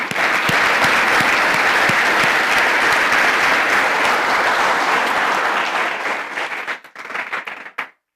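A church congregation breaks into loud, sustained applause that fills the room, dense and even for several seconds before thinning into scattered claps and stopping abruptly.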